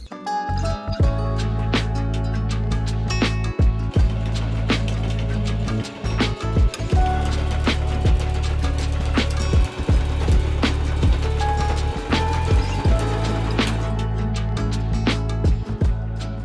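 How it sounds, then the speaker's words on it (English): A sewing machine stitches a patchwork pocket onto the front panels of a thrifted chore jacket. Its steady, humming motor runs nearly nonstop for the whole stretch, with sharp ticks and brief pauses scattered throughout. "Now I can sew the pocket and sew it right on top of our front panels."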